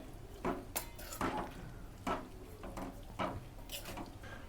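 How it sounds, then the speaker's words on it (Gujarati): A spoon scrapes and knocks against a pot, mixing masala into bottle gourd and chana dal curry, giving about six soft, quiet clinks spaced at irregular intervals. "હવે આપણે એકદમ હળવા આઠે મસાલો બધો મિક્સ કરી લેશું"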